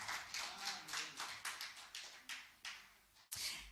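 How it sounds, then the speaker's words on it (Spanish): A church congregation clapping hands in a steady, evenly spaced rhythm, about a dozen claps heard faintly from some distance, with no voices over them. "palmas para Jesús"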